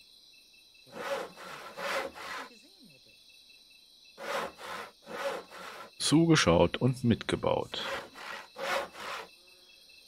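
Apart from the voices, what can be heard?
sawing wood in a video game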